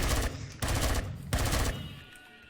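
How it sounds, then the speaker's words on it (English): Video game gunfire in Empyrion Galactic Survival aimed at insect creatures: three rapid automatic bursts, each lasting about half a second, then the noise fades to a quiet tail. "These will run away when I shoot it."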